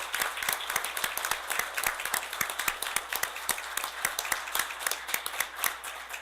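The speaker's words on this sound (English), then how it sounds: "A round of applause, please." An audience at a council meeting applauds two people standing to be recognized: a dense, lively round of clapping with sharp individual claps, steady and continuous throughout.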